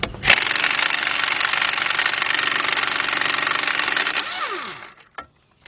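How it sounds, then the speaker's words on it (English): A pneumatic air impact wrench hammers a bolt out of the left front hub on a 2014 Chevy Impala, a loud continuous rattling burst lasting about four seconds before winding down, then a short clank and quiet. "I'm going to use my air gun."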